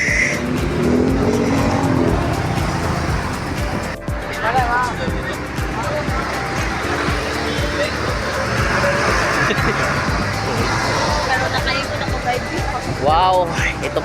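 Busy road traffic with car engines and passing vehicles, a loud steady roar with occasional tyre squeals, while voices murmur throughout.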